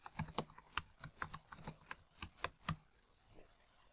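Typing on a computer keyboard: a run of quick, close keystrokes in an uneven rhythm for under three seconds, then tapering off into near quiet.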